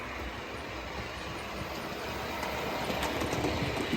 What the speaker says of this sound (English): we'll see in a second as the funeral train goes by what it looks like